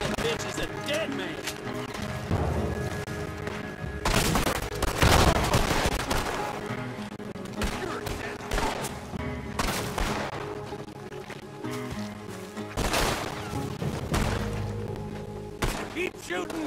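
Gunfire from the video game Red Dead Redemption 2 during a town shootout, dense volleys and bursts of shots running throughout, loud and repeated, mixed with game dialogue, shouting and clashing action.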